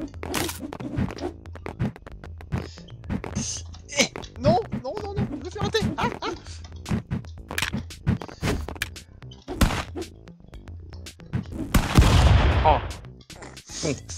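Rapid weapon fire in the stick-figure brawler Stick Fight: dense bursts of quick sharp shots with thumps and impacts, loud and near, running under excited talk throughout.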